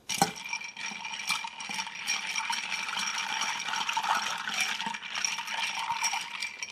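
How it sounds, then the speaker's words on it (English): Ice cubes clink and rattle in a mixing glass as a classic two-ingredient cocktail is stirred, a continuous fast jingling at close range and moderate volume, with no voice over it. "Next, we're going to stir."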